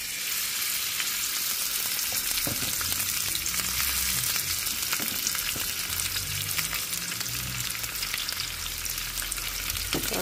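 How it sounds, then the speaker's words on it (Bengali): Onions frying in a pan with ginger-garlic paste and a little ground spice, a steady close sizzle throughout with occasional stirring scrapes and soft clatters, no talking. "চলো আমরা এটা রান্না করে আমি এখন এর মধ্যে পেঁয়াজগুলো দিয়ে দিব।"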